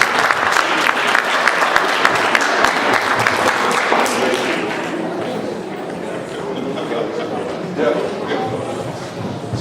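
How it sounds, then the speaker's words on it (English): An audience applauds loudly at a Hindu New Year celebration in a Saratoga Hindu temple hall, and the clapping thins after a few seconds into scattered claps and crowd chatter. "A big round of applause just for merely being here today"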